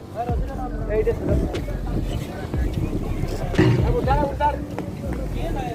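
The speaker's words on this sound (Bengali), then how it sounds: "আমরা এই ট্রলারে করে সেরাদ্বীপ উদ্দেশ্যে রওনা হচ্ছি" A trawler's engine chugs over wind buffeting the microphone, with people talking and calling out nearby as the boat sets off from Saint Martin's Island toward Chhera Dwip, Bangladesh.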